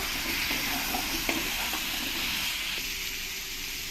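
Drumstick pieces frying in a pan with spices, a dense continuous sizzle and hiss with faint scrapes of stirring, close and steady throughout.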